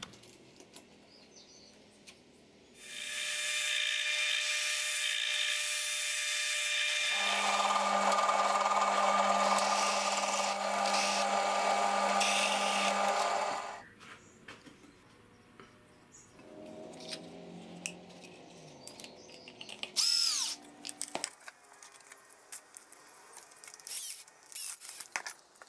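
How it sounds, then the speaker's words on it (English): A power drill or driver whirs loudly for several seconds driving screws through templates into a slotted MDF board, pitch shifting midway, followed by scattered clicks, taps and handling noises. "I'm going to just screw them onto a piece of MDF with slots on it."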